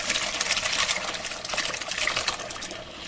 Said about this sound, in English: now we're going to dump out or strain curds from the whey